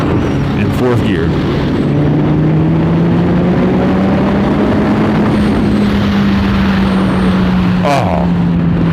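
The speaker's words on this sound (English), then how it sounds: "I'm gonna do that again just because I like that sound so much. In fourth gear." A Kawasaki Ninja 1000 motorcycle accelerates hard in fourth gear, a loud continuous engine roar with a slowly rising pitch that then levels off, under heavy wind buffeting.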